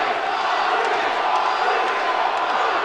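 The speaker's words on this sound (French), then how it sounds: "Vous entendez la foule?" Boxing match crowd roaring and cheering steadily throughout, a dense loud wall of voices with scattered shouts rising above it.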